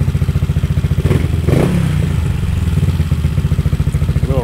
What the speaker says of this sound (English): Bike is idling and sounding great.